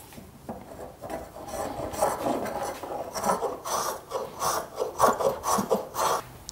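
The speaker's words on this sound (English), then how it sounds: "Now I'm gonna start with my spokeshave and start chamfering this." Spokeshave chamfering the wooden edge of a handmade hand plane, a series of rhythmic rasping strokes that grow stronger and more regular, close and clear with no talk.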